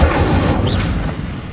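A single Incendio fire spell cast in Hogwarts Legacy lands as a loud, close booming burst that fades out within a second or so.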